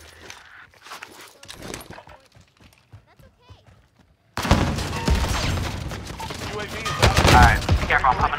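Dense video game gunfire erupts in a multiplayer shootout, loud sustained bursts following a quieter stretch, with players talking over the shooting.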